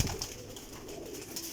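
Pigeons in a breeder's loft give a soft, close coo or two over low background hum, faint and brief.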